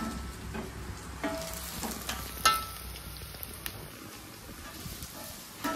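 Misal pav ingredients frying in a pan, a low steady sizzle with a few sharp clicks and clatters of utensils, fairly quiet and without talk.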